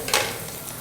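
Carrots being stirred into chicken fried rice in a hot pan make a brief scraping stir with a soft sizzle, loudest near the start and then fading to a low background hiss.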